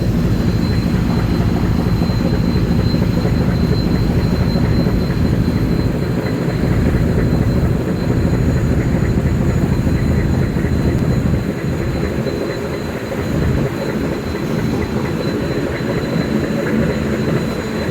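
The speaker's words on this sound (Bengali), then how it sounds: "ডাইহারসু ইঞ্জিনের আওয়াজও আপনারা শুনতে পাচ্ছেন।" Steady, loud drone of a Daihatsu engine powering a passenger launch on the Buriganga river near a rail bridge, a continuous mechanical rumble with no pauses and no speech.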